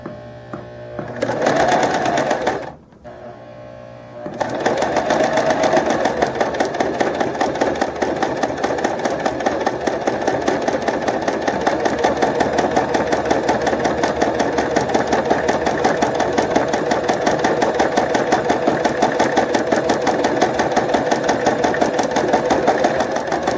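A sewing machine stitches fabric onto the side of a shoe, starting with a couple of short bursts and then running in a steady, loud, fast mechanical chatter for a long stretch.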